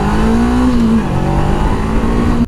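A 2016 Honda CBR 500R motorcycle accelerates hard, its engine note climbing loud and close before a brief gear change, then rising again and cutting off sharply at the end, with no talk.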